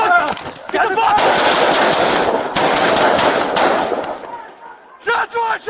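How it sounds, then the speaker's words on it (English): Police officers fire a rapid volley of gunshots at close range, a dense burst of loud cracks lasting several seconds, with shouting voices just before and after. "Shots fired! Shots fired!"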